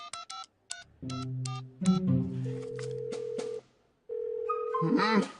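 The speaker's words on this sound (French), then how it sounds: "Réponds au téléphone, réponds au téléphone!" Phone being dialed in a department store at night: several quick touch-tone beeps, then a steady ringback tone pulsing twice, followed by a voice beginning to speak at the end.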